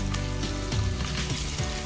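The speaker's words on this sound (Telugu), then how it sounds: "ఇవి కొంచెం ఫ్రై అయిన తర్వాత ఉల్లిపాయ, అలాగే పచ్చిమిర్చి వేసుకుని" Onions and green chillies sizzle and fry in a hot pan on low flame, a close, continuous crackling hiss with a few stirring scrapes.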